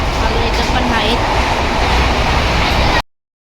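A train at a railway station in Kerala produces a loud, steady rumbling roar with constant broadband noise that cuts off abruptly near the three-second mark, leaving silence.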